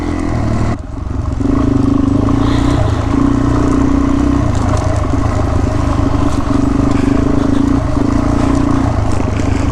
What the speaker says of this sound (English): That's exactly the type of riding I like on this bike.